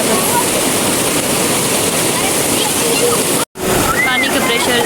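Rushing river water in Siren Valley roars as a loud, steady broadband wash throughout, with a brief cut near the end before the torrent resumes.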